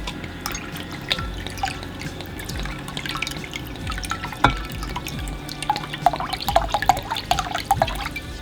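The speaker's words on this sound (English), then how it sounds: "then from there you want to add about a cup of sparkling water" Sparkling water is poured into a vampire punch, giving soft splashing and fizzy dripping with a light bubbling crackle, close and fairly quiet, with no talk.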